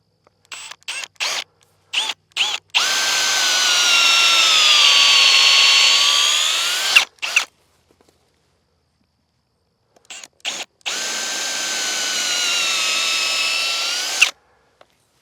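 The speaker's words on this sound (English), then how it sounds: "That's how quick it is to drill one of these holes to get it ready." Power drill boring a hole into a wooden fence end post, whining loudly in two sustained bursts of several seconds each, preceded by short start-stop triggers, with a quiet pause between bursts.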